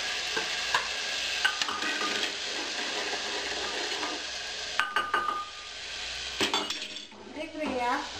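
Tomatoes, garlic paste and asafoetida fry and sizzle in a pan for an Indian potato sabzi, with a steady close hiss broken by scraping stirs and light clinks of a utensil against the pan.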